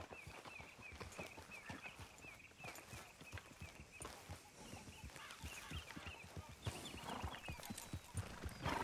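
Horse hooves from the video game Red Dead Redemption 2, a steady clip-clop of a horse walking along a path with occasional snorts and a whinny, close and continuous.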